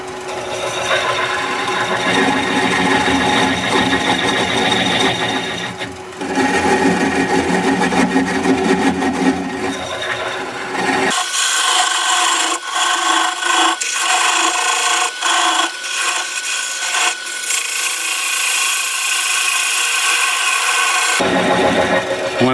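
Wood lathe turning a log into a vase at around 400 rpm, with the tool scraping and rasping against the spinning wood in a continuous loud grind that shifts in tone partway through.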